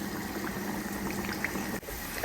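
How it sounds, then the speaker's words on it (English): Sliced plantain for Kelewele fries in hot oil, a continuous soft bubbling and sizzling at an even level, close by, ending with a faint clink. "after you have added Kelewele into the oil, don't stir it. Just leave it in for the Kelewele to fry"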